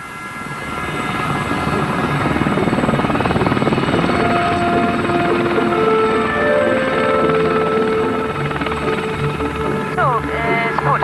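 A £1 million military training helicopter flies with a loud, continuous rotor and engine drone, steady and close throughout, as a lone pilot handles it on a first solo flight.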